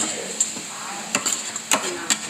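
Udon noodles and vegetables are tossed in dakgalbi sauce on a restaurant griddle, with a soft sizzle under a few sharp metallic scrapes and clinks of a spatula against the pan.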